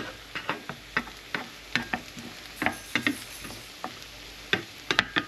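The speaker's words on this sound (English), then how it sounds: "we got sizzle going on the side of the pan, so you know we're cooking." Scattered crackles and pops from hash browns frying in a pan, irregular and fairly quiet, with no voices.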